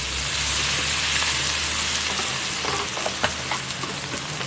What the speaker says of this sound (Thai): มันจะเป็นกุ้งนะครับ กุ้งหวานหวานไม่เค็มนะครับ ใส่ลงไปผัดด้วยนะครับ